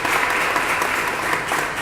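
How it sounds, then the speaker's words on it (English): A crowd at a Richmond transit funding announcement breaks into dense, even applause, a continuous wash of many hands clapping with no voices over it. "give that great round of applause for our Norfolk"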